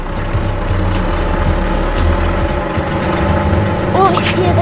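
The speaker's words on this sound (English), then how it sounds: "Oh, I hear the same motor!" Steady engine hum of a fire vehicle motor in the LEGO City Catch the Crooks video game, a continuous low drone mixed with game effects and faint chimes near the end.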